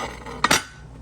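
A spatula briefly clinks and scrapes against a pan as a plantain and avocado omelette is lifted out: a quick double metallic tap, close and otherwise quiet.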